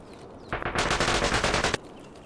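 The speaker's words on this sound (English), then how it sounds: "gunshots are a little bit choppy." Automatic gunfire in the game Escape from Tarkov, a loud, rapid burst lasting just over a second, the shots tightly spaced and slightly choppy in rhythm.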